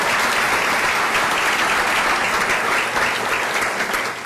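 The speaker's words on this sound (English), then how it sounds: "Please give both of them a round of applause if you will" Audience applause for two honorees at a public address, a dense, steady roar of many hands clapping at full loudness, easing slightly near the end.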